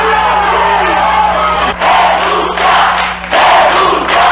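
A crowd of protesters boos and shouts at a university rector who is surrounded by security guards, a dense, loud roar of yelling voices that surges in waves with brief dips between.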